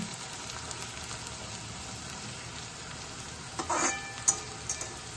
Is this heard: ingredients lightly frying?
yes